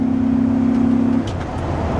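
A 23-year-old Dodge Ram 2500 heavy-duty pickup with a 4-speed automatic, towing a trailer, drones steadily from inside the cab with a low engine hum that drops and shifts after about a second as the transmission downshifts.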